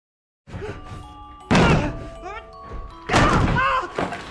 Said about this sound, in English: Sean has no choice but to try to break down the door with brute force